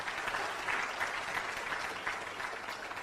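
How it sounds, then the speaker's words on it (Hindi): A seminar audience claps enthusiastically in a lively, pulsing burst of many hands. The applause holds steady and fairly loud throughout the short stretch. "जोरदार ताली मारे।"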